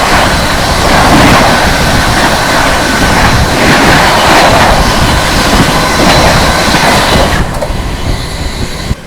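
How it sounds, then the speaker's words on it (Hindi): Jaynagar Garib Rath Express roaring past a passenger train at speed, loud and close, with steady clickety-clack of wheels and a sustained rush that thins out near the end. "तो चलिए आप लोगों को क्रॉसिंग दिखाते हैं जयनगर गरीब रथ के साथ"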